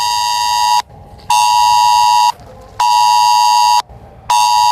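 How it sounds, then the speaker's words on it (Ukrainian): A phone blares a missile danger emergency alert in Kharkiv, harsh loud buzzing tones repeating in long bursts with short gaps between them, alone with no voices. "Ракетна небезпека. Господі, телефон ще."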